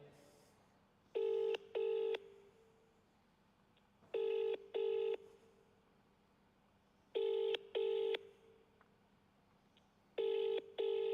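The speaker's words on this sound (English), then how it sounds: "It's ringing forever." A phone line rings out unanswered during a live prize draw, with four double-pulse ringback tones spaced about three seconds apart over a steady low hum, with no one picking up.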